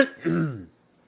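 A single close cough, rough and throaty like clearing the throat, lasting under a second before quiet.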